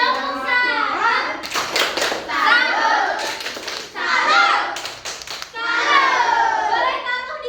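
Primary school children in a fifth-grade classroom chant together in bursts and clap a rhythmic praise routine, with sharp clap clusters between the sung phrases.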